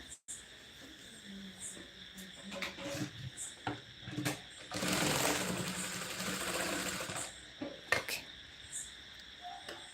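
A sewing machine stitches a size 34 blouse, running in one steady buzzing burst of a few seconds amid quiet handling clicks, with soft talk in Marathi around it.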